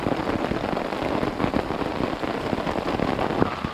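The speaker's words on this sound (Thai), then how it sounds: "ฝนก็ยังไม่มีทีท่าที่จะหยุดแล้วครับ" Steady, dense rain pours down at a campsite beside a reservoir near railway tracks, a close, continuous patter on nearby surfaces with no voices.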